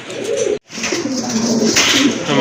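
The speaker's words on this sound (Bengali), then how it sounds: "মাশাল্লাহ দেখেন আরেক জোড়া কবুতর" Lahori pigeons cooing close by, a steady run of throaty coos with a brief break early on, loud and continuous with no speech.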